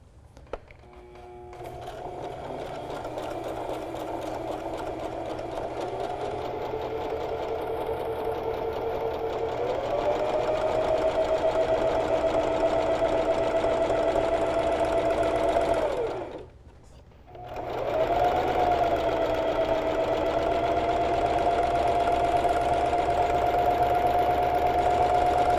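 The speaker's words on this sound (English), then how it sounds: "I'm going to go ahead and do a stitching line that's 1/4 of an inch away from the cut edge" A sewing machine runs a straight stitch line on a flutter sleeve tee, humming steadily and close with a rising pitch, pausing briefly near the end before resuming.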